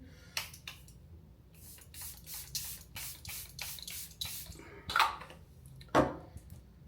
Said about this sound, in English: I think this is the Charlotte Tilbury setting spray.